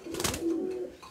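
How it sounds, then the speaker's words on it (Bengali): Cross-breed pigeons from a Rajshahi Giribaj and Teddy cross give a close, single low coo with a soft throaty warble lasting under a second, accompanied by faint rustling. "এগুলো মূলত ক্রস কবুতর"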